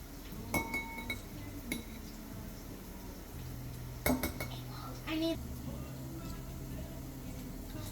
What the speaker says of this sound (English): Empty the Mars carpone into a small bowl.